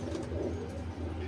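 A pigeon gives a soft, low coo at close range, faint and brief against a quiet background.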